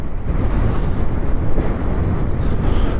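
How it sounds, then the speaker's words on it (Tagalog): Loud, continuous wind rumbles and buffets the microphone, a dense low roar that barely lets up, with no voices. "Medyo malakas yung hangin"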